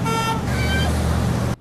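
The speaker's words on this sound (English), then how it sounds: "Honking and yelling almost as constant as drivers on the 405." Car horns honk on a busy road amid traffic, a long sustained toot cutting off, then another horn blaring loudly over street noise.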